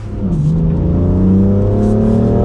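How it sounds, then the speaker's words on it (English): A 2020 BMW M4 Heritage Edition pulls away with a steady, rising engine drone and climbing exhaust note, close and loud throughout, no talk over it. "getting the BMW M4 Heritage Edition out on the road now"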